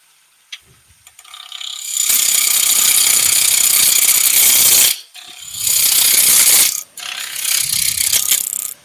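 A wood lathe turns timber for light pulls, giving a loud, harsh rattling roar in three long bursts separated by brief pauses, with a few small knocks before the first run.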